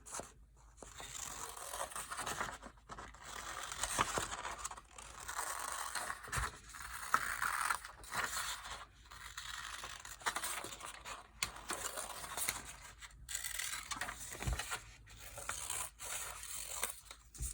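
Scissors cut a paper snowman's hat, making a long run of close, dry rasping snips and scrapes with brief pauses and no talking.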